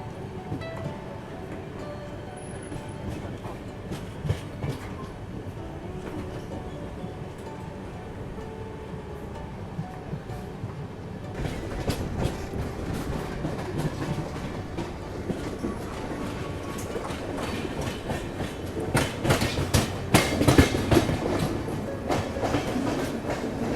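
Secunderabad Darbhanga Express rolling along the rails, heard as a steady clickety-clack of wheels over joints that grows louder and busier in the second half, with no talk.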